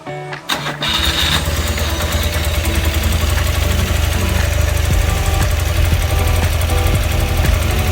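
A 1978 BMW R80/7 motorcycle's rebuilt boxer twin cranks over briefly on the starter, then catches and settles into a loud, close, steady lumpy idle that continues alone.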